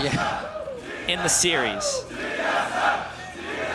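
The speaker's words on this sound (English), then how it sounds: "The crowd giving out the chant for the team who they pretty much laid down the home turf for here" A large arena crowd chants and roars for the home team at a League of Legends NA LCS Summer 2014 playoff quarterfinal, TSM vs Dignitas, a swelling rhythmic chant under a commentator's voice.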